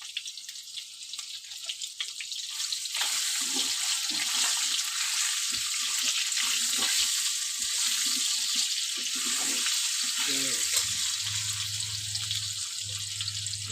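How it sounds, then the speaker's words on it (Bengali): Potatoes fry in hot oil with cumin seeds in a wok, giving a loud, steady, broadband sizzle that swells after a few seconds and keeps going close by, with a low hum underneath near the end. "চলো এবার আলুটা ভেজে নিই।"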